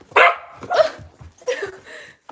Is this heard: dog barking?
yes